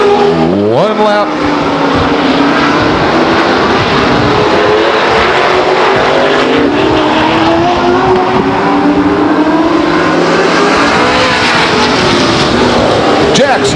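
Grand American Modified race cars at Stockton 99 Speedway roar loudly and continuously as a close pack, engines revving and passing, with an announcer talking over the din.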